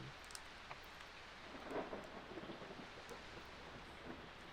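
Steady rain with a low rolling rumble of thunder from a thunderstorm in the dinosaur park game Jurassic Park: Operation Genesis, a dense even wash of droplets with no voices.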